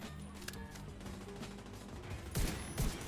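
Video game gunfire in a shooter match: a low, steady rattle of distant shots, then two heavier, louder bursts close together near the end.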